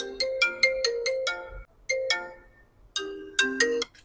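Bright marimba-like ringtone tones from an iPhone during a speaker check, playing two quick runs of bell notes with a short pause between them, clear and close with no talking.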